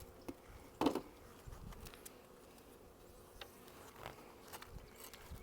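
Honeybees at a beehive opened for the first time this year, a soft, steady buzzing hum with scattered faint thuds and handling noises close by.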